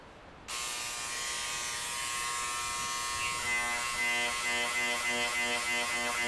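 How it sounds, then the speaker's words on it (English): A small Dremel engraver with a rounded point stipples wood, starting abruptly as a loud, steady electric buzz. The reciprocating hum flutters slightly as the tip is worked against the surface, close by and with no voices. "This is a little Dremel engraver, all right?"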